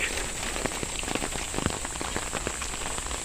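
Heavy rain falls steadily across a park in Huzhou, Zhejiang, a dense hiss with scattered sharper drops spattering close by, continuous and alone without voices.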